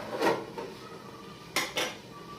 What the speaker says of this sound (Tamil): நான் திருப்பி மூடி வச்சிடறேன்.